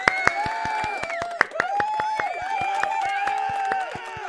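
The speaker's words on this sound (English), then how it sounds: "Applause time." Applause used as a sound effect during a podcast, sharp individual claps in an irregular rhythm over a sustained tonal backdrop, fairly loud and close.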